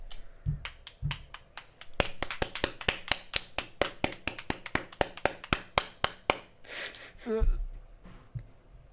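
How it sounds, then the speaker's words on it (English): Steady run of crisp handclaps in the visual novel Steins;Gate 0, around twenty evenly spaced claps close and dry, preceded by a few soft taps and followed by a breathy rustle. "Why was he applauding?"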